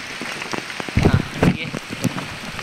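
Rain falls steadily on a forest trail during a monsoon trek near a waterfall, a soft continuous patter with a few louder thumps and rustles close by.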